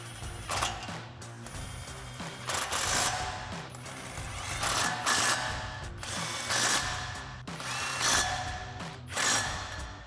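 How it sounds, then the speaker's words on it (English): Impact wrench with a 19 mm thin-wall socket driving lug nuts onto 1-inch hubcentric wheel spacers on a 1994-2014 Mustang, heard as repeated loud rattling hammering bursts of a few seconds each, close up with no talking. "grab our 19 millimeter thin wall socket on our impact and tighten these down in a star pattern"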